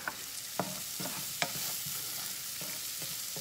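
Pasta sauce ingredients, with oregano just added, stirred in a pan for Dominican pasta: a soft background sizzle broken by several distinct spoon scrapes and taps at an irregular pace, fairly quiet, no speech.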